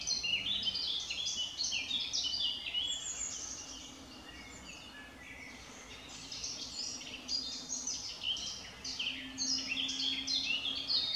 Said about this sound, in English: the sound of all them birds is absolutely brilliant.